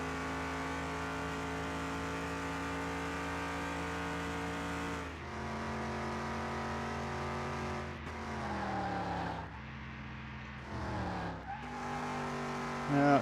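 A race car in the Car Mechanic Simulator 2021 game brakes into a hairpin on a track. A loud, sustained engine drone drops in pitch while the tyres give a long skidding squeal, and the engine is heard shifting and revving again.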